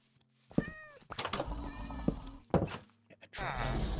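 A cat in the video game Minecraft gives a short, plaintive meow, then a second one amid thumps and game noise, with a person talking around it.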